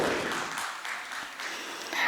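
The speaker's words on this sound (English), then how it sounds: "Please give her a big round of applause." Audience applause at a government event on citizen experience in Karnataka: a steady, dense wash of clapping that holds for about two seconds with no voices over it.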